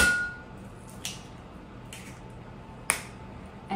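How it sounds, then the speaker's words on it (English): Eggs are cracked one at a time into a bowl of chocolate brownie mixture, giving a few sharp, close taps and cracks spaced about a second apart against quiet background hiss. "I am going to break 4 eggs, 1 at a time, into this mixture"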